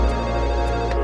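A telephone ring fills a short burst, steady and loud with bright repeating electronic tones and no voices.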